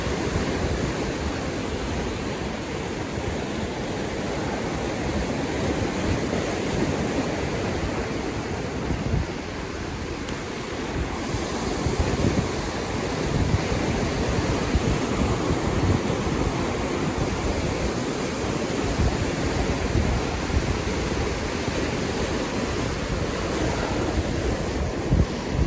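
Ocean waves breaking and surging continuously at Snapper Rocks on a surf beach, a loud, steady roar of surf with wind buffeting the microphone throughout, no talking.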